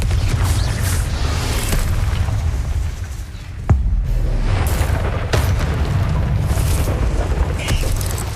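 Fiery spell blasts boom in Hogwarts Legacy inside catacombs, heavy low rumbling explosions rolling almost continuously, with a brief lull and sharp crack midway before the roar resumes.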